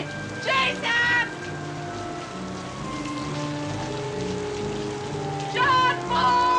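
Heavy rain falls in a steady, dense wash, heard alongside faint tonal background sound, with brief bursts of a raised voice calling near the start and again at the end.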